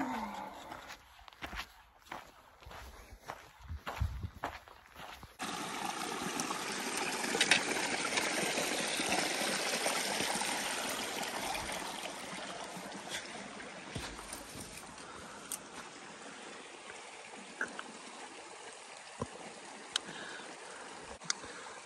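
A mountain stream flows with a steady, hissing rush that fills the scene after a few sharp scuffing sounds at the start, continuing evenly and moderately close.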